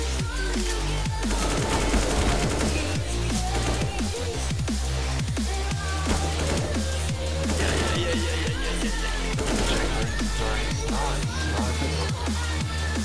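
Gunfire in the tactical shooter CS:GO, rapid bursts and single shots layered under a steady, loud bed of background music, continuous throughout with no talk.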